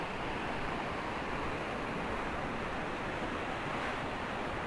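Fast-flowing water of the Jhelum River rushes in a steady, loud, broadband roar that fills the whole stretch with no pauses.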